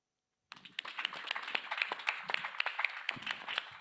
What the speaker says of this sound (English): Can I just give a round of applause to the ALEP program as a whole?